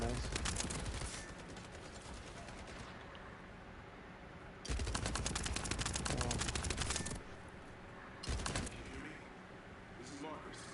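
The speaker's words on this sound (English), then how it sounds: "So I'm using a launcher right now." Launcher weapon in The First Descendant firing in rapid bursts, each a dense run of sharp crackling shots lasting a couple of seconds, loud and close, separated by quieter gaps with background game sound.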